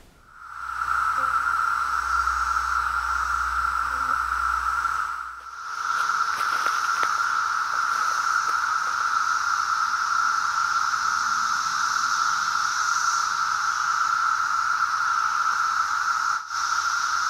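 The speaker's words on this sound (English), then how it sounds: "The sound you hear is from hundreds of thousands of cicadas" A dense, unbroken electric buzz of many cicadas droning together, loud and steady throughout with a brief dip early on.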